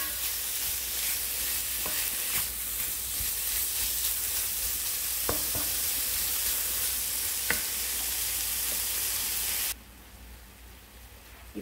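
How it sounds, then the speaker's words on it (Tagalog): Bacon sizzles steadily in a pan for carbonara while being stirred, with occasional scraping clicks, and the loud frying hiss drops sharply near the end. "Lagay na natin yung bacon. Mix lang natin."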